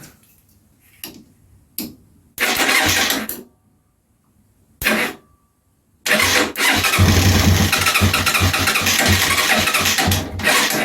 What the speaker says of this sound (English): that's making the rumbling noises